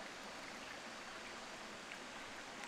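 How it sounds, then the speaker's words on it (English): Steady running water outdoors, a continuous broadband rush like a small stream, even and unbroken throughout with no voices. "Got the water running."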